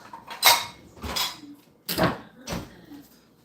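Ceramic bowls and dishes clatter in a home kitchen as a bowl is pulled out, four distinct knocking clinks spaced about half a second apart, close and fairly quiet.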